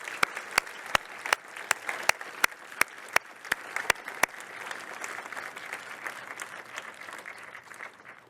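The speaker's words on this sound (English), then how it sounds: "join me in giving Orin and the team of people who've produced him a round of applause?" A small group at a conference product reveal claps, with sharp loud claps standing out early. The clapping thins out and fades to a quieter patter.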